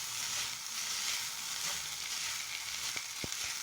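Schezwan noodles are stirred with a fork in a hot pan, a continuous soft sizzle with a couple of brief taps of the fork near the end.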